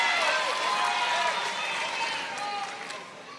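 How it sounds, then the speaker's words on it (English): Crowd cheering and applauding at a professional volleyball match in St. Louis, a broad roar of clapping and cheers that slowly fades, with a commentator talking over it. "Crowd will come alive here in St. Louis."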